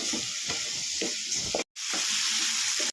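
Cut tomatoes cook in a pan with a constant hissing sizzle, broken by a brief gap, as a spoon stirs them with soft repeated scrapes close by.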